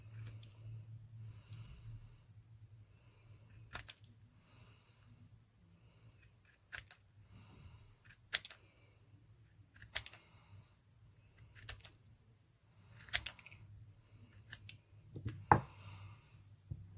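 Pinking shears snip through paper circles for a DIY snap clip, giving sparse, quiet crunching cuts at irregular intervals over a steady low background hum, with a slightly louder snip near the end.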